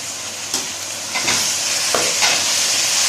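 Tomatoes sizzle loudly in a hot pan for chicken dal maash, with a steady frying hiss broken by a few distinct scraping stir strokes.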